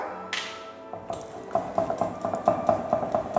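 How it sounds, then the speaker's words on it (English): Spoon stirring baking powder and salt into brownie cookie batter in a bowl, giving a run of quick, rhythmic clinks and scrapes after a brief clatter, close and fairly quiet. "And now I'm going to give it a quick stir."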